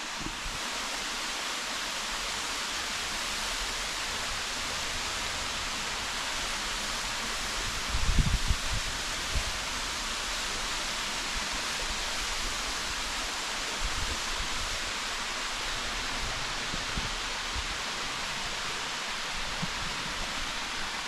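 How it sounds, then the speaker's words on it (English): Steady, full rushing roar of the waterfall at Desoto Falls, constant and close, with a few faint handling bumps. "So that's the waterfall."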